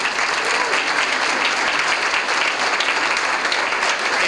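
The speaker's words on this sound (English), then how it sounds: "give him a great round of applause" A crowd at a young leaders' awards event gives Dr. Suggs a loud, dense round of applause, a steady unbroken wash of clapping throughout.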